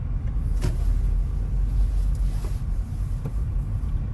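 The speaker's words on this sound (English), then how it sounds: "And now I've got to move my car." A car engine rumbles steadily as the car is moved, a low, close drone with a few faint clicks and no one talking.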